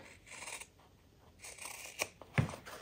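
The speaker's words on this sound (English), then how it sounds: "we're gonna take some sharp scissors and we are going to cut this square" Sharp scissors cut a square out of fabric for a large tote bag, giving a few quiet, separate snipping and rasping strokes close by, with the last cut the loudest.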